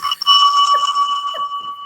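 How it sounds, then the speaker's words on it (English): A bell rings with a bright, sustained metallic tone that hangs for nearly two seconds, with a second lighter strike partway through; it is loud and close, and no one talks over it. "I like the bell."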